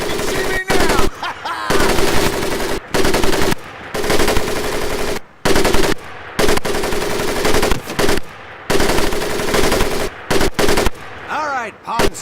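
Sustained bursts of automatic machine gun fire from the Pacific War shooter Medal of Honor: Pacific Assault, loud and close, firing in repeated volleys broken by short pauses, with distant battle noise between.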